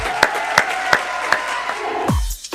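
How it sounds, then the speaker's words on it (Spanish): Studio audience applause for a guest on the All You Need Is LAB program, an uneven, sparse clapping with several distinct sharp claps standing out, tapering off near the end. "un aplauso para nuestra invitada"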